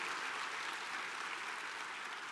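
A church congregation claps together in a faint, even wash of applause that holds steady and tapers slightly at the end.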